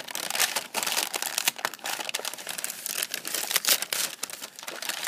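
Crinkling and rustling of a brown paper bag as a kit of insect-hotel materials is opened, a close series of uneven crumpling bursts with short pauses, heard alone without talk.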